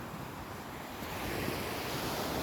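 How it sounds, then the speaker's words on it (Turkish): Rough sea waves surge and wash at sunrise near Tekirdağ, a continuous broad roar that swells slightly louder midway, with some wind buffeting the microphone and no one speaking. "Deniz dalgalı."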